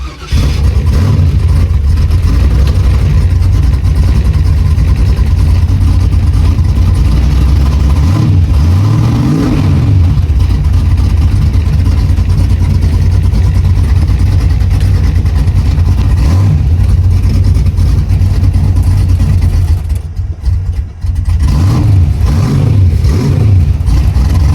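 LS-swapped Ford Fairmont V8 running during a nitrous fuel-system test, a loud, close idle with deep rumble and a few short revs rising and falling, no voices over it.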